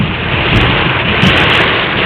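Heavy torrential downpour on the road near a toll plaza between Bhojipura and Bareilly, a steady dense hiss filling the whole clip with no breaks, close and loud, with no voices.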